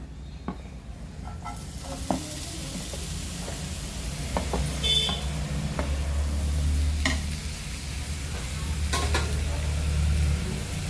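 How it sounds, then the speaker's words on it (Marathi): Onion frying in a pan of hot oil for a prawn masala gravy gives a steady crackling sizzle, punctuated by sharp clicks and scrapes of a spoon stirring against the pan. "तेल छान गरम झालं की मग त्यामध्ये आपण कांदा टाकून घेऊ।"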